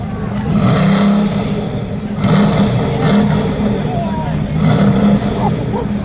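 A 1,000-horsepower Bugatti Veyron engine growls and surges in repeated waves, loud and close, with a deep low rumble throughout, at a supercar parade rev-off.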